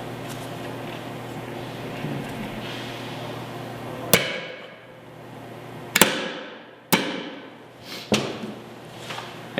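Hammer driving taper pins into a rifle gas block during an upper receiver build, four sharp metallic strikes in the second half, close and ringing briefly, with workshop hum before them.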